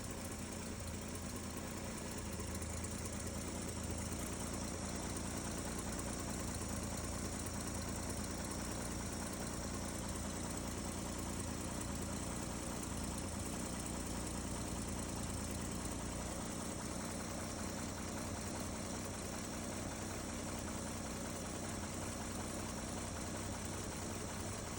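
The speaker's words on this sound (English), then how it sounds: "Okay, this was a cold start." A Chevy 216 inline-six idles steadily after a cold start, a continuous close rumble with a dense mechanical clatter and no voices over it.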